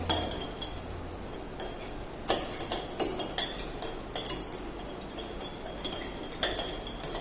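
A utensil stirs lye solution in a glass container, a rapid series of small clinks and taps against the glass, fairly close and steady, with no talking.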